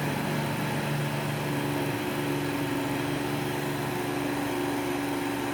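An Oster Pro 1200 blender motor whirs steadily while blending ice cream, a loud continuous drone whose pitch rises partway through as the mixture thickens.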